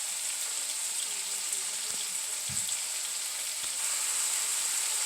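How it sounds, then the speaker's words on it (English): Vegetables sautéing in a pan for shepherd's pie, giving a quiet, steady hiss of frying with a few faint taps of a utensil. "Now that these vegetables are really sauteing and cooking up good"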